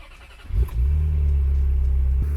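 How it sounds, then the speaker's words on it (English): A Ferrari F355 engine is started with its exhaust valves closed: a quick cranking catch, then a steady, close, deep idle rumble that holds evenly. "I'm gonna start the engine with the valves closed."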